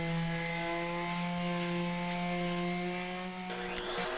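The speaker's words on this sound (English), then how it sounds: "time to go back and just do some of the final sanding" A power sander whines steadily and continuously at close range on a wood cabinet, a constant buzzing hum with no voices.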